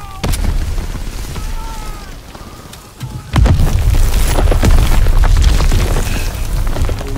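Booming explosions from the World War II shooter Call of Duty WWII, heavy low rumbling blasts that grow louder and denser after a few seconds, with battle noise and faint voices mixed in.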